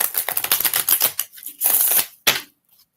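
Oracle cards are shuffled by hand in quick papery riffles and flutters, a run of rapid bursts followed by two short separate shuffles, close and clear with no talking.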